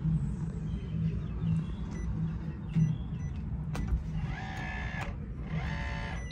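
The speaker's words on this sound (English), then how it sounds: "you will see the bolt go through" A combination door lock at a house inspection drives its bolt into place with a short mechanical whirring run, then a second brief whir, fairly faint over steady background hum.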